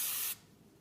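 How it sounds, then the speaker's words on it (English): A short, loud burst of hairspray aimed at a teased bump of competition dance hair, a bright hiss lasting about a third of a second before cutting off to near quiet. "Okay, I'm going to spray that again."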